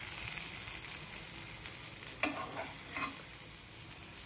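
Eggless vegetable omelette cooking in a little oil in a pan on a low stove, a soft steady sizzle with a faint scrape as it is turned, no talking.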